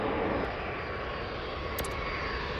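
A jet takes off in the video game Airport Madness, a steady, fairly faint roar of aircraft engines that holds evenly throughout with no talking.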